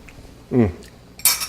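A spoon clinks against a pan of chicken supreme pan sauce, a short bright metallic knock at the end after a brief voice, close and clear.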